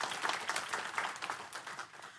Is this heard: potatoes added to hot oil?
no